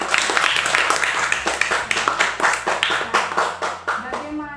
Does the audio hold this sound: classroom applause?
yes